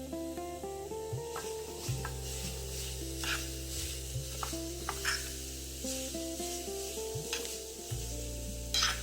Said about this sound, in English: Add the finely chopped karela to the pan and mix it nicely so that it is heated all around.